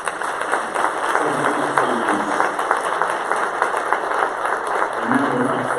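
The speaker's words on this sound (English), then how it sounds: "I think that bears another round of applause." At a children's advocacy luncheon, a crowd breaks into dense, sustained applause with a lively, irregular patter of many hands, and a few voices mix in beneath the clapping.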